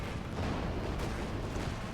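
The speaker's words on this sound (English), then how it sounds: "18 nades coming in." Grenades exploding in a World War II strategy game on a Ploesti outskirts map, a dense, steady barrage of booming blasts and rumble throughout, loud and close, with no speech.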